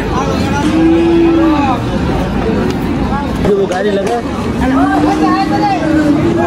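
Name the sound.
cattle at a cow market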